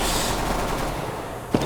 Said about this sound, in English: I hear lots of gunshots